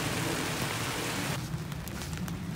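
Rain falls steadily on a vegetable garden where chayote, gailan and tomatoes grow, a dense close hiss that thins and softens partway through.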